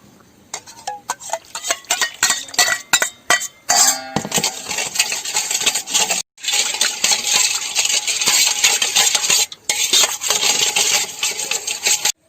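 Sugar and yeast being mixed in a bowl for homemade donut dough, with a steady run of clinking, scraping spoon-against-bowl stirring that is close and fairly loud, pausing briefly a couple of times.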